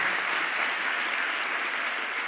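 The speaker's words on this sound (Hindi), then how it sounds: "तभी हम तालियों के नाद से" Steady, full applause from a large audience welcoming RSS chief Mohan Bhagwat at a gurukul event in Rajkot, dense even clapping heard on its own without talk.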